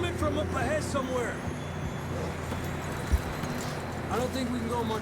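Horse hooves clip-clop in a steady gallop beneath a wash of ambient noise, with brief animal cries and faint voices mixed in, in the PC game Red Dead Redemption 2.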